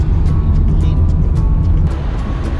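A taxi rolls through Guadalajara, Mexico, with a steady, close interior rumble of engine and road noise and faint clicks and rattles over the top.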